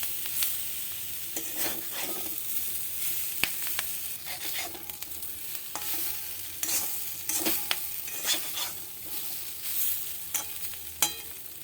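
Gram flour and spices fry in a pan for capsicum and potato masala, a constant soft sizzle broken by irregular scraping strokes of a spatula stirring the mixture, with no talk.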